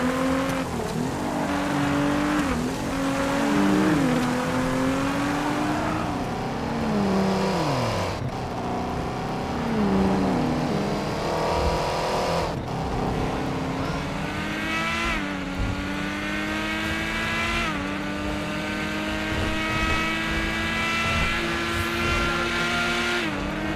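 Modded V12 engine of a Strider car in GTA 5, revving and shifting through gears with rising and falling pitch, loud and continuous with a couple of passes and possible tire squeal, no talk.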